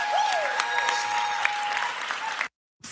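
Audience applause swells into a steady wash of clapping that runs at an even level for more than two seconds, with a whistling tone over it, before cutting off abruptly.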